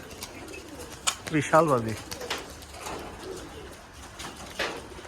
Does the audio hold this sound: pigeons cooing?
yes